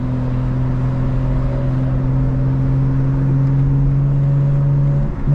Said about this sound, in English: Intake sounds amazing.